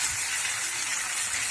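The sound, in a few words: pouring water into pan of potato curry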